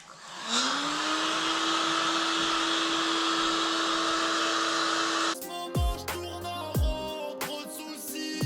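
A hair dryer or heat gun blows steadily with a constant whine while warming a decal on a 2018 KTM 150 SX dirt bike, then cuts off as music with heavy bass begins.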